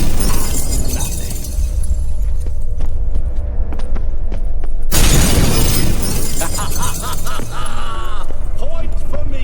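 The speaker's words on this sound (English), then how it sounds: "Gotta be some mirror here you won't shatter." A mirror in The Witcher 3 video game shatters with a sudden, loud crash of breaking glass midway through, heavy debris and tinkling shards ringing out over dense game music and ambience.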